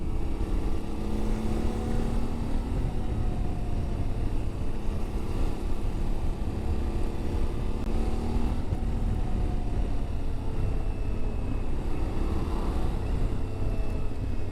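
A Yamaha Tenere 700 motorcycle engine on a town test ride in third gear, with a steady, close drone whose pitch shifts gently as the throttle changes, mixed with wind noise throughout.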